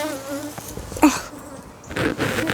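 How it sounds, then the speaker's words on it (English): An angry honeybee buzzing close around a beekeeper at an open hive, a wavering high drone that rises and falls as it passes near, with brief handling noises and no talking. "another bee is mad at me. Okay, you can probably hear her."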